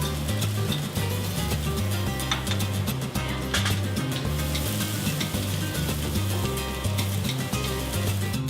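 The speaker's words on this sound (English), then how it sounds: "We add oil to the wok and I get busy stir-frying the quinoa chofa." Steady loud sizzling of quinoa stir-frying in oil in a hot wok, with occasional stirring scrapes, no voices.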